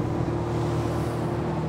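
A 40 horsepower Suzuki lean burn outboard engine drives a boat, giving a steady, continuous low droning hum with even loudness throughout, close and alone.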